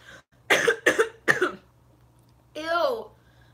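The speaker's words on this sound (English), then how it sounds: "That was a gross cough." Three sharp, close coughs in quick succession from a person, followed after a pause by a drawn-out vocal groan, over a quiet indoor background hum.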